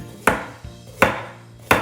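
Bell peppers chopped with a knife on a cutting board, three sharp, close chops spaced about evenly with quieter knife taps between them and no talking.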